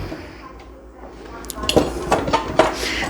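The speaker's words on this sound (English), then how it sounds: "Just scrape up some of those little bits" A metal utensil scrapes browned bits from the bottom of a pan while cooking beef and peas with dumplings, giving a run of sharp scrapes and clinks in the second half after a quieter start.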